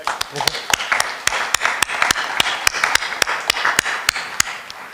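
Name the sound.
audience applause at award ceremony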